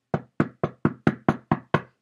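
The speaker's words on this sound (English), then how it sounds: "there was a knock on the gate" Eight firm knocks on a gate land in an even, quick rhythm, close and distinct with short gaps between them and no talking.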